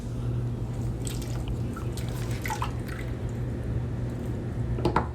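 A brush and wig hair are dipped and rinsed in a tub of water, giving soft drips and small trickling splashes over a steady low background hum.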